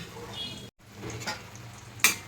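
Continuous close sizzling of fish-roe fritters frying in hot oil, with a brief cut, a few stirring scrapes and a sharp utensil clink near the end.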